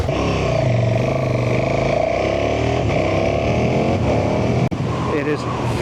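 A KTM motorcycle engine, a Super Duke GT or Super Adventure S, runs loudly and close up with rising and falling revs, and a rider's voice is heard over it.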